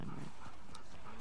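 A dog in the video game The Last of Us Part II makes a brief, faint canine sound within a snowy outdoor game scene, set against a steady background wash.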